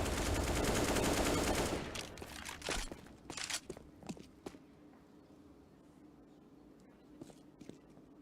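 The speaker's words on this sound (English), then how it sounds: "Through the smoke, the snipers fire off." Sniper rifles fire through smoke in a CS:GO esports championship match: a loud, dense burst of gunfire lasts nearly two seconds, then scattered sharp shots and clicks follow before things go quiet.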